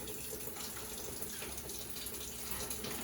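Tap water runs steadily into a sink as dental instruments are rinsed in sterile processing, a continuous close hiss and splash with no talk.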